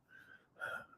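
Two quick hiccups, a softer one followed by a sharper, louder one, close up and isolated in a quiet room.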